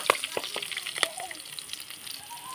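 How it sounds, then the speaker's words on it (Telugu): Mustard seeds and cumin crackle and sizzle in hot oil, with sharp pops at the start and a steady close hiss beneath, no talking. "కొన్ని ఆవాలు వేసుకోవాలి. కొంత జీలకర్ర వేసుకోవాలి."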